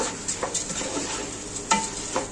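Onion and garlic get stirred in a pan with basmati rice, giving soft scraping and clinking of the spoon against the pan over a light sizzle, in two brief bursts.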